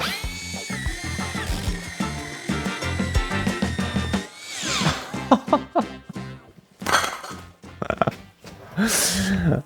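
A Bosch multi-material hole saw bores through wooden kitchen worktop, giving loud, uneven grinding bursts with thuds and pauses that stop and restart, close up, with some voice between the cuts.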